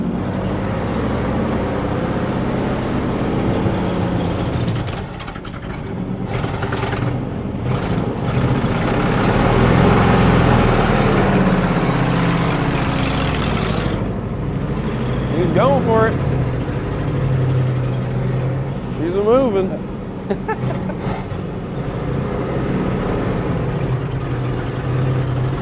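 A vintage Volvo C60 Viking truck engine runs after 40 years idle, a rough, steady rumble that swells as it is revved, with people talking over it.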